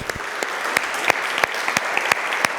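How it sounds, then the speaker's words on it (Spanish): A church congregation applauds during a service announcement, a dense wash of clapping with a few sharper individual claps standing out, steady and fairly close throughout. "Dale un aplauso a Isis que está con nosotros."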